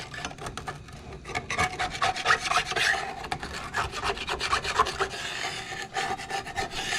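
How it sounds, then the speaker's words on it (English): A spatula scrapes cooked bits off the bottom of a pan while making a pasta stir fry, a steady close rasping and rubbing that runs continuously with short rhythmic strokes. "I'm going to use my spatula stuff to scrape up all these little bits off the bottom"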